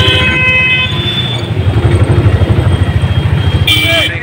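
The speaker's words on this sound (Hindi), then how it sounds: "अभी हम हैं रिक्शा में" An auto rickshaw's engine chugs close by in rapid, even pulses as it rides through traffic, with a sharp horn blast near the end and people talking over it.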